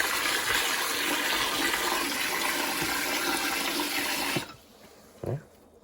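Running water pours steadily into a sink while dirty potatoes are washed, a continuous rushing stream that stops abruptly near the end, followed by a brief splash or clatter.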